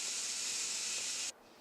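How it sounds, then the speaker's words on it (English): Steam hisses steadily from a pressure cooker valve while chicken noodle soup cooks, a constant close, bright hiss that cuts off sharply just before the end, with no talk. "You hear the steam coming out"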